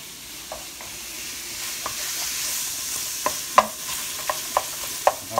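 Ground pork browning in a pan, a steady sizzle with a spoon stirring and scraping in sharp periodic knocks against the pan, close and alone without talk.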